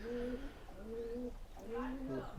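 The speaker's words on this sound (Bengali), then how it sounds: "মেলা কবুতর আছে এখানে।" Pigeons at a Giribaz pigeon farm coo in soft repeated phrases, a few low throaty calls close by over a quiet background hum.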